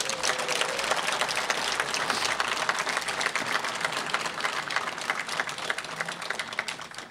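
A large crowd applauds at a VMRO-DPMNE political rally in Čučer-Sandevo, steady thick clapping sustained and loud throughout, with faint crowd murmur beneath.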